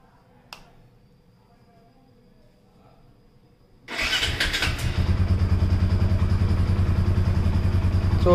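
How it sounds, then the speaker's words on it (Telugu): A freshly serviced TVS Apache RTR 180 ABS motorcycle sits quiet, then its engine fires up abruptly and settles into a loud, close, steady idle that runs to the end. "ఇప్పుడు ఒకసారి ఇంజన్ స్టార్ట్ చేసి చూపిస్తాను."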